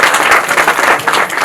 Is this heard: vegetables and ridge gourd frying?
no